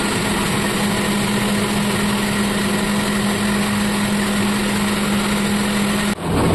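A rice milling machine that husks paddy into rice runs steadily, a loud, constant engine hum with a steady mechanical drone that cuts off abruptly near the end.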